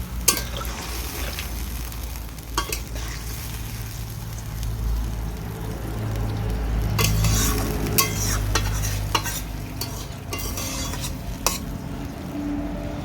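Pumpkin and potato being stirred in a frying pan, a steady sizzle with scraping and clinking of the spoon against the pan recurring throughout, no voices.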